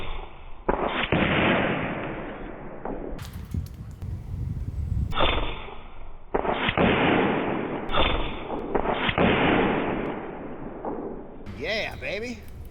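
An Air Venturi Avenger bullpup PCP air rifle fires pellets at eggs, giving several sharp, close cracks and thuds spaced a few seconds apart, with voices talking in between.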